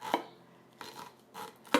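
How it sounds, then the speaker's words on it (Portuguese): Corn for pamonha is rubbed over a traditional metal and wood grater, giving a few separate rasping scrapes in an uneven rhythm, close and fairly quiet. "A gente rala tradicionalmente no ralo de metal com madeira."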